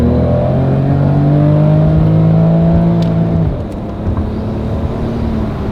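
A JDM car with a rebuilt engine revs loudly at high RPM as it accelerates, its engine tone climbing near the microphone before dropping away to a lower drone. Nobody talks over it.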